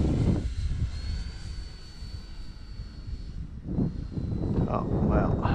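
An E-flite Timber Turbo Evolution RC airplane flies in wind with a faint, distant motor whine and wind noise, as voices talk nearby, loudest near the end.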